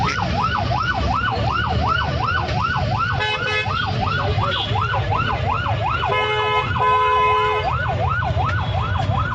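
A police vehicle's wailing siren cycles steadily and loudly, rising and falling, with a short yelp burst partway through, over traffic rumble on a busy street.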